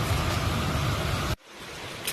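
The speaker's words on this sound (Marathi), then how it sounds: "फक्त पाऊस बघा किती पाऊस येतोय" Heavy night rain outside a hostel, a loud dense hiss that cuts off abruptly partway, leaving a much quieter rushing sound.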